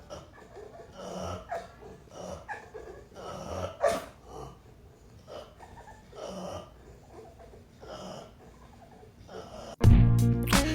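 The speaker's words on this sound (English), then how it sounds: "That dog sounds like a creep," A dog snorts and wheezes in a run of wet, snuffling bursts, fairly close, ending in a sudden loud burst of different noise.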